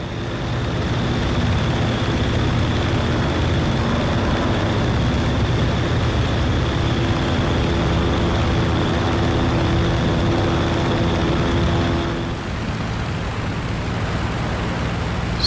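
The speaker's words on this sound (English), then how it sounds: "it was just time to drop the gear and see if we can butter the landing" Propeller aircraft engine in a World War II flight game, gear down in the landing pattern at St. Trond, drones steadily and loudly throughout, with a slight drop in tone near the end.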